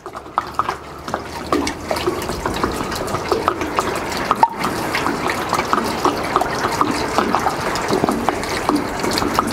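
Water from the engine of a rusty 1952 ZIS MMZ-585 truck, started after two years standing idle, splashes and trickles steadily with a busy liquid patter, close by and continuous with no talking.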